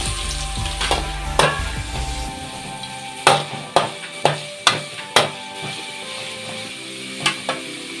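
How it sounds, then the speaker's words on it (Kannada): Sliced onions sizzle and fry in hot oil in a pan while cooking gobi manchurian, a steady crackle broken by several sharp clanks of a utensil against the pan, with no talking. "ಎಣ್ಣೆ ಹಾಕ್ಕೊಂಡೆ, ಅದಕ್ಕೆ ನೀರುಳ್ಳಿ ಹಾಕ್ಕೊಳ್ತೇನೆ"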